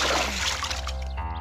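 Water splashes as a cartoon character steps into a puddle in new shoes, a brief wet splatter and trickle heard over steady background music.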